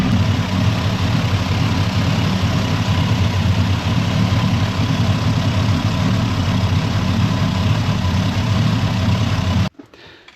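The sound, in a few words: 1987-95 Chevy TBI engine idling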